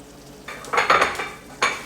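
Taco filling cooks in a pan with a steady sizzle, broken up by a few louder scraping bursts of stirring. The sound is close and moderately loud, with no talking.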